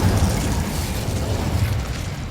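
A fiery Incendio spell erupts in Hogwarts Legacy, a loud continuous roaring burst of flame with rumbling low-end crackle sustained for a couple of seconds, no voices over it.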